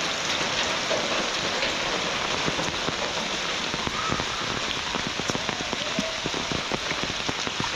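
Heavy monsoon rain in the Konkan pours steadily onto surfaces, a dense, constant hiss with scattered louder drops and splashes close by and no talking.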